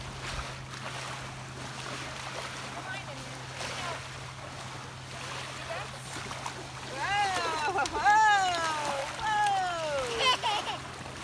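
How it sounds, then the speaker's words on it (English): Waves washing onto a beach shore, a continuous surf rush with splashing, under a voice and high squeals in the later seconds. "The waves are crashing on you."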